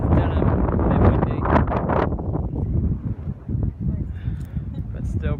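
Strong wind buffets the microphone outdoors at Denham, Western Australia, a loud low rumble with gusts that rise and fall and no speech.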